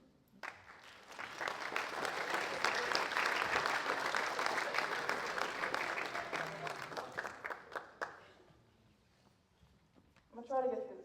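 A large audience claps loudly and steadily for several seconds, then the applause fades out, followed by a brief burst of clapping at the end.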